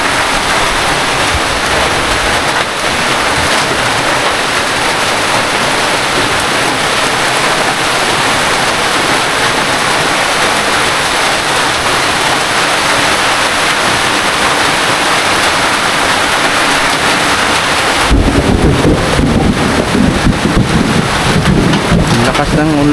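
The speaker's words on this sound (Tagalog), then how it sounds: "Malakas ang ulan." Heavy rain roars steadily and loudly at night throughout, a dense continuous hiss, with a rougher, rumbling burst near the end.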